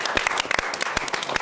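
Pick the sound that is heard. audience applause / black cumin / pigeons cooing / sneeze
audience applause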